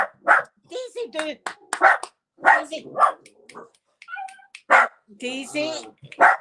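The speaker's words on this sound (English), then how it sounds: "It's a wee doggy." A small dog barking in short, high yips and bow-wows, repeated in quick irregular bursts with brief pauses, loud and close to the listener.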